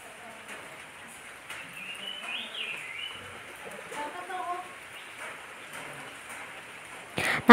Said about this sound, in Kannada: ಈಗ ಸಣ್ಣ ಮಳೆ ಬರ್ತಾ ಇದೆ ನಮ್ಮೂರಲ್ಲಿ